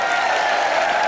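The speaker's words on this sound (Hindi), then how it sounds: "जोरदार तालियां भारती जी के लिए" A studio audience at the Comedy Nights Live comedy show applauds, a dense, steady wash of clapping that fills the whole short moment without a break.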